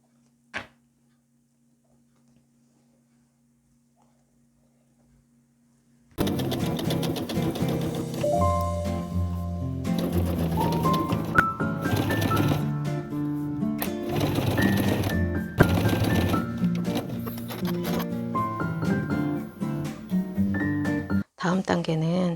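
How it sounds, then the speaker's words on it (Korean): Sewing machine stitching a seam on a cylindrical patchwork drawstring pouch, running steadily and loud for about fifteen seconds after a quiet start, mixed with music or voices and ending with a short stop. "이 라인은 저는 재봉틀로 연결합니다."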